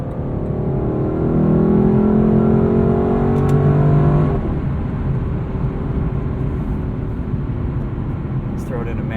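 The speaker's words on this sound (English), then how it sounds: "This actually has a pretty substantial exhaust note." A 2018 Lexus LC 500 sports car accelerating hard, its exhaust rising to a loud droning roar for about four seconds before easing into a steadier, lower rumble.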